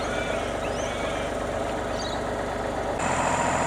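A tractor fitted with a Hayes backhoe, its engine running at a steady idle with a constant low drone and rumble close by, shifting slightly in tone near the end, with no talk over it.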